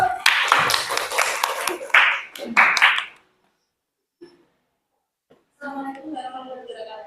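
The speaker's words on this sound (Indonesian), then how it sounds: "Tepuk tangan untuk kelompok 1." A brief round of hand clapping from a small group of teachers lasts a few seconds, then quiet, then a voice begins speaking.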